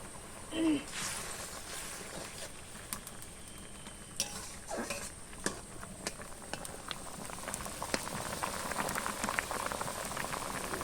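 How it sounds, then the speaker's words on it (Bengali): A pot of puti fish curry broth with potatoes boils at a steady bubble, with scattered clinks and knocks of stirring throughout and no talk. "এবার ঝোলটা ভালো ফুটে গেছে আলুটাও সেদ্ধ হয়ে গেছে"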